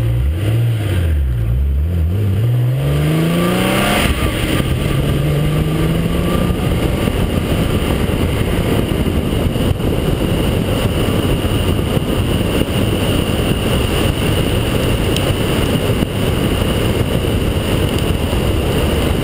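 A blue TVR sports car engine revs hard and drives off, a loud continuous roar that climbs in pitch at first and then holds steady and close throughout.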